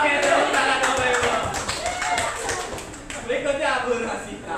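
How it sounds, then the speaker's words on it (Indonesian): An indoor group gives a short burst of applause, with close, quick clapping under a speaking voice and scattered claps fading near the end. "tepuk tangan Bapak Ibu"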